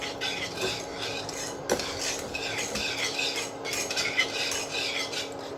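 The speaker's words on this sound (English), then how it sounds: "I will just try to mix it with a whisk" A whisk beats a caramel sauce mixture in a pot, making a steady, continuous scraping and clinking of metal wires against the pan, close and moderately loud with small accents throughout.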